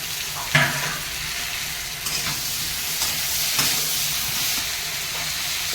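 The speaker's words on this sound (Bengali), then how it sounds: "তারপরে টমেটোগুলো দেবো দিয়ে একটু কষাবো" Tomatoes sautéing in a hot pan give off a steady, close hiss of sizzling oil, with a couple of soft utensil knocks early on and no talking.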